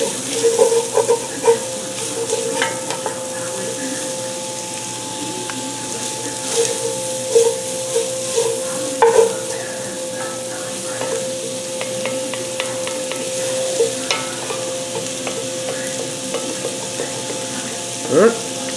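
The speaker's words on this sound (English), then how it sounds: "We'll stir this in with the bacon. Let this continue to saute a little bit." Bacon sautéing in a pan with added ingredients, a steady close sizzle and crackle with intermittent scraping stirs and utensil taps over a faint background hum.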